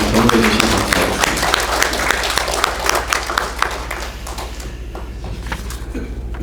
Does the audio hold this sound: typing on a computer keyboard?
no